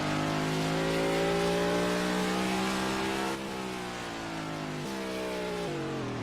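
Onboard a Carvana Cup Series race car on a Repco 140 qualifying lap, the engine drones loud and steady with rising pitch, then drops briefly on a gear change or lift and pulls hard again.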